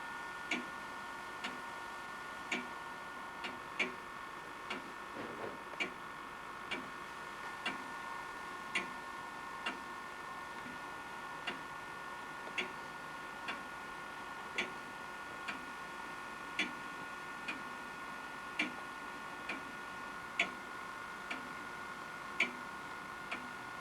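A Scottish grandfather clock ticks in a quiet room, its crisp, evenly spaced ticks continuing alone throughout.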